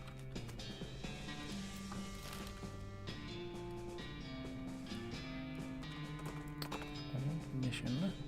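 Horse galloping in the western comedy video game West of Loathing, a steady rhythmic hoofbeat under continuous game music throughout.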